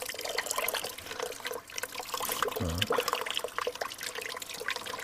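Well water running from a tap at a house, a steady splashing and trickling stream that is close and moderately loud, with a brief gurgle partway through and no voices.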